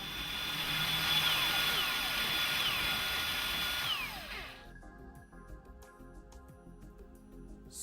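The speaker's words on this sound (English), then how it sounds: "You're now ready to drill small pilot holes." A power drill whirs into the underside of a work desk making small pilot holes, a loud rising whine that cuts off midway, leaving quieter rattling and handling noises.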